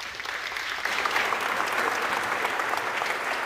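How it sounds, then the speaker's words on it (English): A conference crowd at CodeConf applauds a speaker taking the stage. The clapping is warm and continuous from many hands, swelling a little after the first second and holding steady throughout. "Please give him a round of applause"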